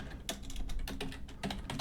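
Keys clack on a computer keyboard as C# console code is typed, a few quick bursts of clicks close up, with no talking.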